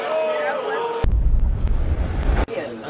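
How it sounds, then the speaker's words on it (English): A gunshot sound effect hits abruptly with a loud, booming burst and a noisy tail that lasts about a second and a half, set between stretches of talking voices. "Gunshot."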